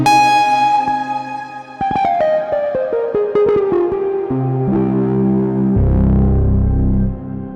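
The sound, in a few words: distortion effect previewed in Soundpaint plugin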